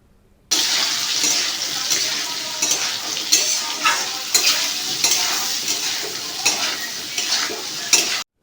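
Jackfruit seeds, pointed gourd and potatoes fry in a pan with a steady sizzle, and repeated stirring scrapes and clatters through it at close range; no one speaks.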